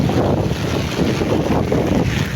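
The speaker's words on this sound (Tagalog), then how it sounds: "Malakas pa ang hangin." Strong typhoon wind roars in a continuous, dense, loud rush, buffeting the microphone without letup and with no voices.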